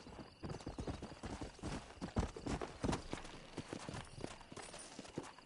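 Horse hooves clip-clop in the video game Red Dead Redemption, a quick, busy run of hoofbeats at moderate volume with no talk over them.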